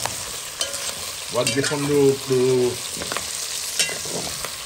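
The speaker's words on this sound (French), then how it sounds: "Et là, mon oignon, il revient doucement." Chopped onion sizzling and frying in oil in a pan, stirred with a few scraping strokes, close and fairly loud, with a brief spoken phrase in French over the frying.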